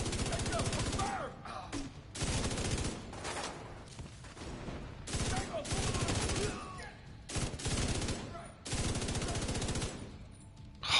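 Bursts of automatic gunfire in The Division 2, several long rapid volleys separated by short pauses, loud and close, with brief voices in between.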